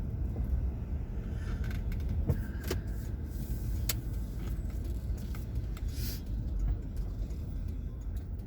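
A car driving the wrong way on a road near a shopping mall at night, a steady engine and tyre rumble throughout with a few faint clicks, no voices.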